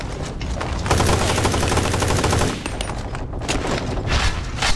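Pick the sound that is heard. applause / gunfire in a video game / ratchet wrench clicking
gunfire in a video game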